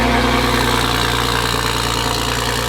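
Toyota Supra drift car engine idling with a new downpipe fitted, a loud, close, steady low rumble with an even pulsing throb, with no voices.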